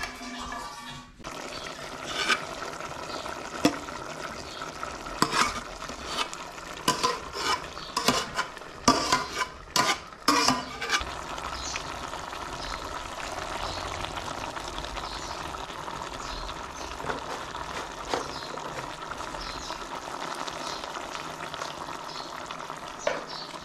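Chicken karahi cooking in a pan in a village kitchen, with a steady loud sizzle and frying hiss throughout and a burst of scraping, clattering stirring strokes early on.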